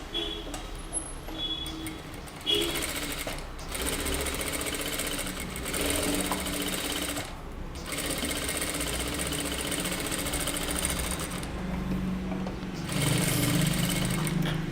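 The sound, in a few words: sewing machine stitching the edge of a kurta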